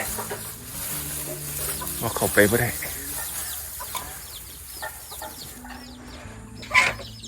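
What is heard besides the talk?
chickens clucking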